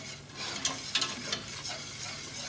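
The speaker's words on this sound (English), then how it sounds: "I'm going to add the flour. And I always use my whisk, just so it doesn't go too lumpy." A whisk stirs flour into melted butter in a pan over lowered heat, giving soft close scraping strokes with a few sharper ticks against the metal over a faint steady sizzle.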